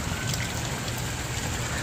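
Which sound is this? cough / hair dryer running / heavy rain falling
heavy rain falling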